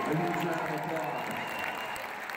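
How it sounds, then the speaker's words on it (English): A concert audience at a show in Uncasville gives the road crew a big round of applause, broad crowd clapping and cheering heard under an amplified voice speaking. "So please give every member of our crew a huge round of applause"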